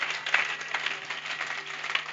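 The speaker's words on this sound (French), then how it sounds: "Acclame très fort pour la gloire de Jésus." A church congregation applauding at a night prophecy and deliverance service in Abidjan, sustained dense clapping from many hands, steady and moderately loud throughout.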